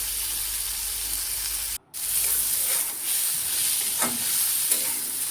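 Onions frying in a pan for an egg fry, a steady loud sizzle with scraping stirs of a spatula and a brief dropout partway through; no talking.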